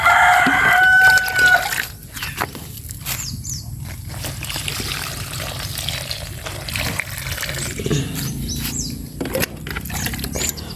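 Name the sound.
chickens crowing and clucking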